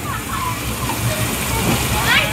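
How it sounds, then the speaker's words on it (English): Children splashing in a backyard swimming pool, with continuous sloshing water and splatter close by under a family's talking voices. "Now, guys, don't splash too much."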